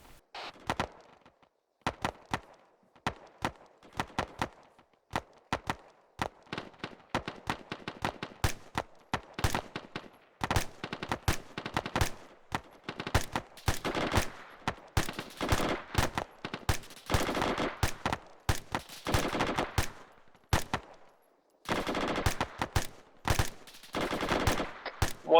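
Gunfire during military base defence training crackles for about twenty-five seconds in irregular bursts of sharp shots, some single and some in rapid strings, echoing outdoors with brief pauses between volleys.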